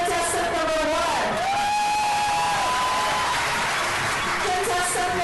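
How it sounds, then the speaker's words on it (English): Audience at an improv festival show applauds and cheers for a contestant, with steady dense clapping throughout, occasional whoops and a voice on top. "it's time for you to crown the winner with a round of applause"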